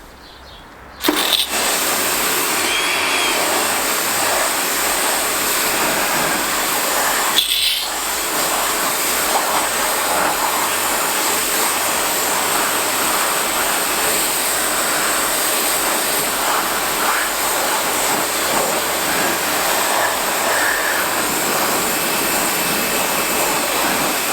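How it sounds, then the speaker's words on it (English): A Karcher K2 Full Control pressure washer on its medium setting blasts an alloy wheel with a loud, steady hissing roar that starts abruptly and runs continuously, with a brief break partway through and no talk. "We're going to do this half of the wheel here on medium"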